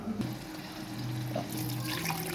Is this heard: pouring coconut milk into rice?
yes